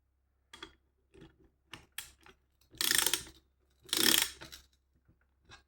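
A wrench ratchets in short clicking bursts while bolts are tightened on an 80cc moped engine, with two longer, louder ratcheting runs in the middle, close up and without talk.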